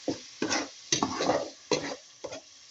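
Onions with tomato and water being stirred in a pan for kofta: several distinct bursts of scraping and wet sizzling, each lasting about half a second with short pauses, close and fairly loud.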